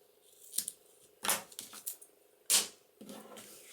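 Scissors trim double-sided tape while making a concertina pocket for a Cinderella junk journal, giving several separate quiet snips and rustles, close and alone with no talk.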